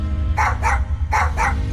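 A small dog barks in the Tales of Monkey Island video game: four sharp close barks in two pairs over a low background hum.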